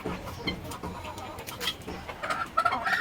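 Two hens scuffle and fight in a backyard, with short clucks, flapping and scratchy bursts at close range, growing busier toward the end.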